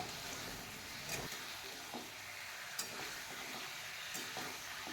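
Chicken pieces frying in a small amount of oil for a simple chicken stew, a soft continuous sizzle broken by a few stirring scrapes, fairly quiet and with no voices.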